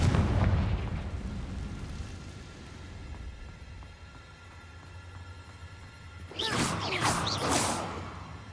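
A Confringo fire spell in Hogwarts Legacy bursts in a cave, first a deep rumbling blast that fades, then after a lull a second loud crackling explosion with sharp whooshing bursts.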